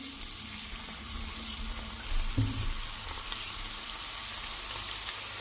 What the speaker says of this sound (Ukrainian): і буду їх далі жарити